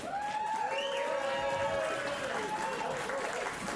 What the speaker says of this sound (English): A big warm round of applause.